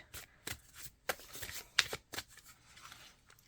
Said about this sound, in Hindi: लास्ट कार्ड निकालते हैं